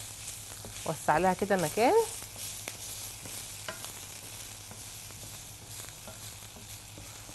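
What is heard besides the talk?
meat frying with onions in a pan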